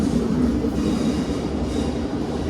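Avanti West Coast Pendolino train 39119, eleven coaches, departs a station for London Euston, a steady, loud rumbling roar of rail wheels and motors running without a break.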